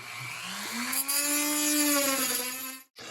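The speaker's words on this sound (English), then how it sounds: "For that, we'll be utilizing a Dremel tool with a sanding wheel on it." A Dremel rotary tool with a sanding wheel whines, rising in pitch as it spins up, grinding plastic nubs steadily for a few seconds before stopping abruptly.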